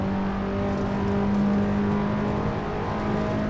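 A race car engine in the Assetto Corsa video game drones steadily with a strong harmonic tone as the car is driven at speed, holding a loud, even pitch for the whole stretch with no talking.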